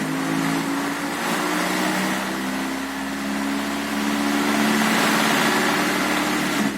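A car engine running on natural gas (CNG) sits at a steady idle, loud and close, with an even droning hum and no revving.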